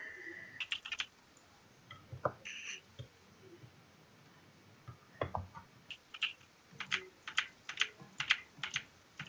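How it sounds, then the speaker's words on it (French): Computer keyboard typing in irregular bursts of sharp clicks, close by, with a quiet gap before the keystrokes pick up again and grow busier. "Désolé pour le bruit du clavier là."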